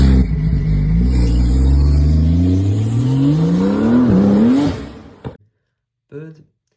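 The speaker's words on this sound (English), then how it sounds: "And now let's look at the Porsche sound, which sounds a bit off." Porsche 911 flat-six engine revving up close, a loud rising growl climbing steadily in pitch over several seconds before cutting off, followed by short speech.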